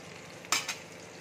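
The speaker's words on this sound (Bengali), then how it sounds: "দেখো এক দিকটা ভাজা হয়ে গেছে" An omelette fries in a pan with a faint background sizzle, broken by two brief, sharper bursts of sizzling as it is turned over; no voices.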